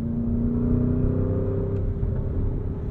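A Porsche Cayenne Turbo GT V8 pulls hard under throttle, a steady, loud engine drone from inside the cabin with no pause and no voices.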